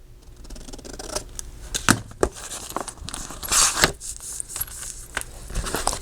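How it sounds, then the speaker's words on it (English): Scissors snip corners off a handmade folio cover, a series of sharp irregular cuts with paper rustling and crinkling between them, close and moderately loud, with no speech. "I'm going to trim these corners off"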